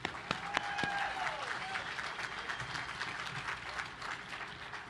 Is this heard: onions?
no